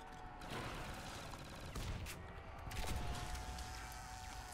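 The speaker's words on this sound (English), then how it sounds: "Let's chuck a couple grenades down there." Grenades explode in a Call of Duty custom zombies map, a series of muffled booms and gunfire-like bursts that come one after another over game background noise.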